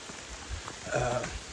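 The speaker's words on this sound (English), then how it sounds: "Lower chances of rain, actually, but it's still raining." Steady rain pattering outdoors along a hiking trail, a soft continuous hiss of drops on surfaces at moderate, even level throughout.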